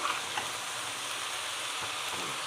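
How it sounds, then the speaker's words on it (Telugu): Chickpeas roasting in a pan: a steady, close sizzle with a faint scrape or two as they are stirred. "ఇవి బాగా రోస్ట్ అయ్యాక శనగలు వేసుకోవాలి. ఇవన్నీ బాగా కలుపుకోవాలి."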